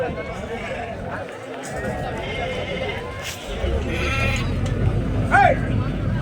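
A ram bleats at a busy livestock market, a short wavering call rising above continuous crowd noise and nearby talking.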